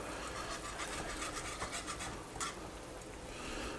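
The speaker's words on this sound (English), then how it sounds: "Keep whisking. You don't want to end up with any lumps." Cream sauce binder for a lobster and prosecco cream sauce is whisked in a bowl, giving quick, rhythmic scraping strokes that run steadily throughout at a soft, close level with no voices.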